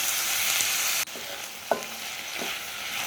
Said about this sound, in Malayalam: ഉരുളക്കിഴങ്ങും സവാളയും കൂടെ നന്നായിട്ടൊന്ന് വഴറ്റി കൊടുക്കാം.